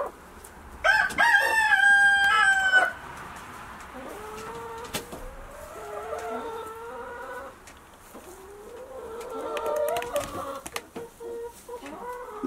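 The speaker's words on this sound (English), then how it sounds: "Thunder, did you lay an egg? Or are you going to lay an egg" Chickens inside a hen house give one loud nearby crow at the start, followed by a run of low, drawn-out clucks and murmuring calls that continue over soft scratching noises.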